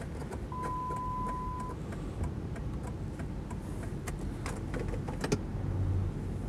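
A Jeep Grand Cherokee Limited with the 4.7 V8 idles with a steady, low engine rumble and light ticking and clicks from the cabin, heard from inside with no voices.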